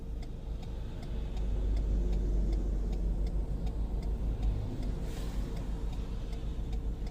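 A manual pickup truck idling and easing forward at a junction on a town road, a steady low engine drone with a faint rhythmic ticking on top, close and even throughout with no talk.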